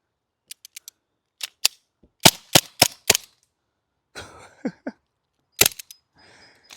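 A gas-powered full-auto Broomhandle airsoft gun, running low on propane, fires BBs outdoors among trees in sharp popping shots, single cracks then quick bursts of three or four, fairly close and loud with short pauses between.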